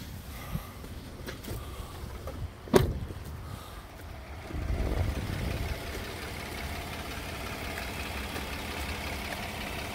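A 2019 Kia Sorento's 3.3-litre V6 idles steadily and low, with a sharp click early on, then the engine note thickens and holds a smooth, even hum to the end.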